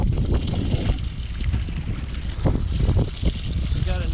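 A fishing boat holding position in reverse over a spot in the wind, its motor a steady low rumble mixed with wind buffeting and water sounds, continuous throughout.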